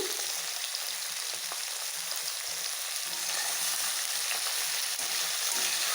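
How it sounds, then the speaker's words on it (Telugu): Sliced brinjal and onion fry in a pan for a Telugu vankaya vepudu. They give a steady, dense sizzle with faint stirring bumps underneath, and no one speaks. "ఈ వంకాయ ఫ్రై అయ్యే లోపల ఉల్లిపాయ కూడా ఫ్రై అయిపోతుంది"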